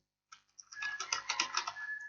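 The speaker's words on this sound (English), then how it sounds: "I am typing, but it's not coming" Rapid keystrokes on a computer keyboard, a close, quiet burst of typing lasting under two seconds with no voice.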